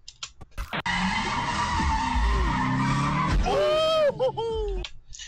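An all-wheel-drive car doing a burnout at a street takeover, tires skidding in a loud sustained roar with engine drone, breaking into sharp squealing chirps near the end.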